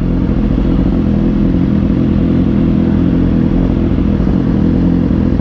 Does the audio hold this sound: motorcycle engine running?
yes